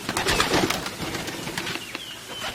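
Pigeons on a pigeon farm in Bangladesh coo softly amid a busy rustle of wings and shuffling, with a few sharp clicks in the background.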